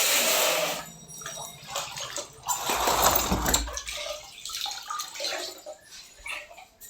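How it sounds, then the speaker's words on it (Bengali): A little water is poured into a pan of frying spice mix for a fish curry, giving irregular splashing and sizzling bursts up close, loudest midway through. "অল্প পরিমাণে জল দিয়ে দেব।"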